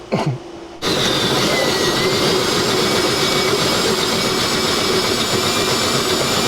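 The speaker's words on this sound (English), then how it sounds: "Hole is drilled." A drill bores a hole in a C5 Corvette drift car, cutting in abruptly after a brief quiet moment with a loud, steady, close whine that holds unbroken to the end.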